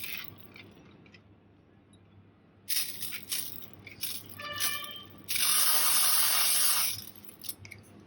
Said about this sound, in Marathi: तर ह्याच्यावर मी तेलाचा स्प्रे मारत आहे.